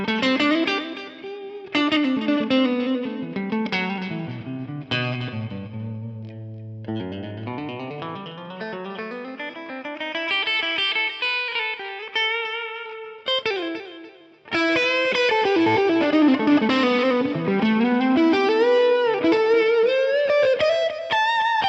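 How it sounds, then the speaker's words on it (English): A Donner Echo Square guitar pedal in digital echo mode repeats distorted electric guitar phrases, each note trailing off in rhythmic echoes, loud and close with no talking. "Now let's take a look at the first mode on the Echo Square,"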